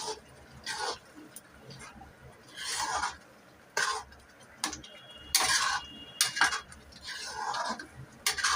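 Pav bhaji vegetables being mixed in a kadhai, with repeated scraping and clinking strokes of a spoon against the metal pan coming in irregular bursts over a quiet background.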